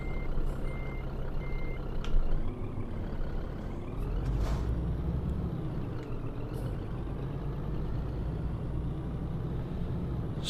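Reversing beeps sound repeatedly from a Scania truck in a truck driving simulator game, steady and fairly loud over a constant engine rumble, with a brief air-brake hiss early on.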